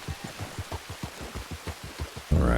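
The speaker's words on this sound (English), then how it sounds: "it feels like it's been raining for a month." Rain in the video game Red Dead Redemption 2 patters steadily with a regular, pulsing rhythm of drops, then swells abruptly into a louder, dense downpour at the very end.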